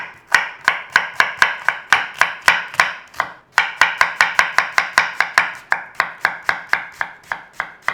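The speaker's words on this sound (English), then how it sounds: "do is slice some onions" A knife slicing onions on a cutting board, with a fast, steady run of sharp, close chopping strikes and a brief pause near the middle; no talking.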